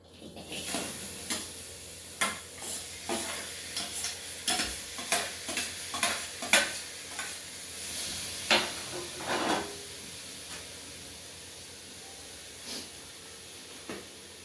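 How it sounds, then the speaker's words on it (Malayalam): Garlic, ginger, green chili and tomato sautéing in a pan for a curry, with a steady sizzle under repeated scraping and stirring clatter, close and moderately loud, easing toward the end. "അതിലേക്ക് വെളുത്തുള്ളി, ഇഞ്ചി, പച്ചമുളക്, തക്കാളി എല്ലാവരും ചേർത്തതാണ്. അതൊന്ന് വാട്ടിയെടുക്കണം."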